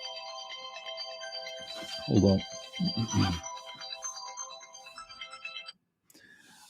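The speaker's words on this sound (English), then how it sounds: "That's my alarm there." A phone alarm rings as a steady electronic melody with layered tones, running through most of the clip and stopping near the end, while someone speaks briefly over it.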